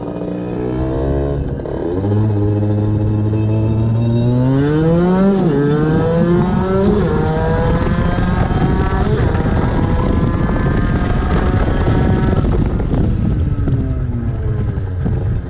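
Loud, close 50cc motorbike fitted with a Most performance exhaust, revving hard in repeated rising and falling sweeps before climbing to a sustained high-pitched wail and then easing off.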